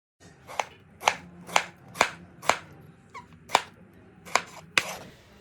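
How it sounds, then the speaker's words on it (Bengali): Kitchen knife chopping a tomato into small pieces on a board, about ten sharp, evenly spaced knocks at close range with no talking. "টমেটোটাকেও এভাবে ছোট ছোট করে কাটবো"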